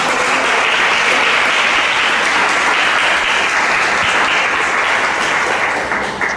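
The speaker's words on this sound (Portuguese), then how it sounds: "Dê uma salva de palmas ao Senhor." A church congregation applauds loudly and steadily, a dense, continuous wash of clapping hands that holds for about six seconds before easing slightly at the end.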